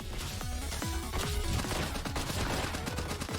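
Rapid, continuous gunfire in the action game One Step From Eden, a dense run of quick repeating shots layered with game effects and music.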